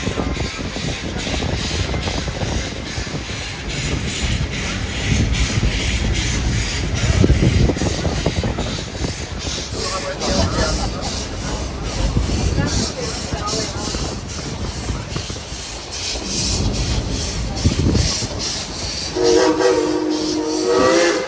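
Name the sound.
steam train with train horn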